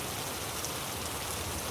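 Steady rain falls in an even, dense hiss with no breaks, moderately faint and unchanging.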